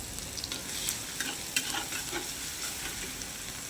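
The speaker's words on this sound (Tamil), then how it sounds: "10 பல் பூண்டை நல்லா தட்டிட்டு சேர்த்துக்குங்க. பூண்டு பச்சை ஸ்மெல் போகிற வரைக்கும் நல்லா வதக்கி விடுங்க" Crushed garlic cloves sauté in hot oil with a continuous, fairly quiet crackling sizzle, punctuated by a few brief scraping stirs and utensil clicks close by.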